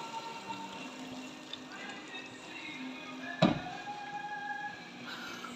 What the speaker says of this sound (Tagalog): Lagyan natin ng mainit na tubig.